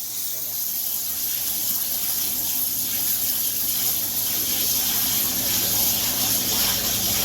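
Excess water is removed from a waterjet machine with a steady, loud rushing and gushing flow that continues unbroken from start to finish and stays close, with a faint low hum underneath.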